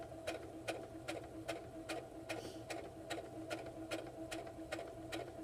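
A sewing machine stitches a pocket onto a polka dot apron with a faint, quick, even rhythm of needle clicks over a low motor hum, heard alone.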